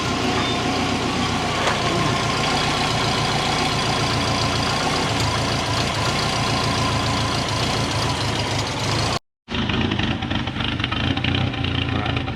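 A DIY turbocharged Subaru engine with a homemade exhaust manifold idles low and steady, a dense rumbling drone with faint irregular knocking throughout, cut by a brief dropout near the end.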